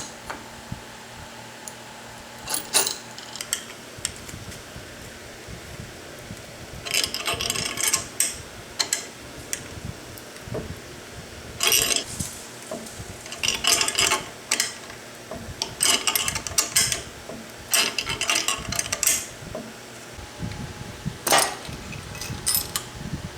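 Needle bearings pulled from the lower table rollers of a Yates American J180 using a puller and bridge, heard as a series of close metallic clicks, scrapes and ratcheting bursts in irregular clusters.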